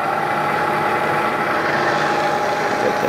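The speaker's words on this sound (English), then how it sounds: "please turn on the spindle for running program" A Bridgeport/Hardinge 3-axis EZ Vision CNC milling machine runs with its spindle on, giving a loud, steady mechanical hum that holds constant throughout without breaks.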